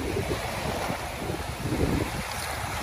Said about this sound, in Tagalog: Pag ganito na sobrang lakas ng alon